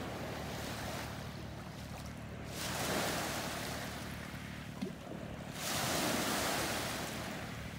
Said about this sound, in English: as the waves are crashing against the beam in the sand